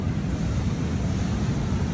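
Sea waves wash ashore at Chavakkad beach in Kerala, a steady low roar of surf mixed with wind buffeting the microphone, continuous and fairly soft with no talking.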